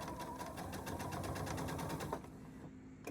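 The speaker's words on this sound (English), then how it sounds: "take two 2-inch squares, put them together, and sew them on your 1/4 inch mark" Sewing machine stitching two small fabric squares together at a quarter-inch seam: a steady, fast mechanical whir with rapid needle rhythm, stopping near the end with a faint click.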